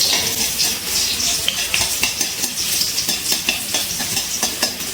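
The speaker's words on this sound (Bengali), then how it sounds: "তেলে রসুনটা একটু নাড়াচাড়া করে ভেজে নিচ্ছি" Crushed garlic is stirred and fried in oil, sizzling steadily while a spatula taps and scrapes the pan in a quick, regular rhythm.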